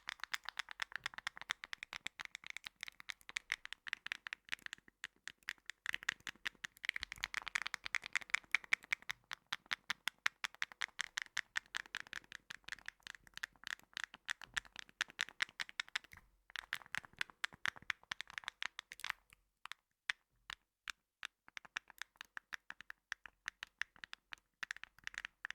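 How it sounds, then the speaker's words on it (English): Rapid, crisp clicks from the buttons of noise cancelling headphones being pressed over and over, close and dense at first, then thinning into sparser, irregular taps near the end. "there are now 4 buttons to press, which is a lot of clicky sounds"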